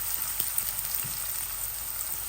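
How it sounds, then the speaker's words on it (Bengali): Onion and garlic frying in a pan for a Bengali radish and dried fish dish, a steady soft sizzle throughout with faint crackles and stirring taps, no voices. "তো আমি পেঁয়াজ আর রসুন লাল করতেছি।"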